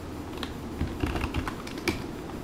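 Computer keyboard typing into a Ruby IRB session, a steady run of quick, close key clicks with a few louder strokes, no voices.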